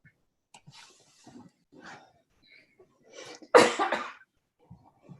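A single sharp sneeze bursts out near the middle, preceded by faint rustles and soft breathing in an otherwise quiet room.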